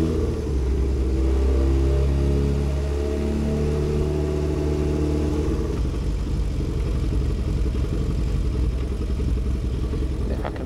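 A rebuilt Honda CB750 cafe racer motorcycle engine revs while riding, a steady low rumble that rises in pitch and pulls up through the revs, loud and continuous with no talking.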